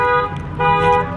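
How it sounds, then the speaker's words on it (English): A car alarm blares outside a Walmart store in a steady, loud electronic tone that briefly dips and then returns, with no talking. "Somebody's alarm's going off."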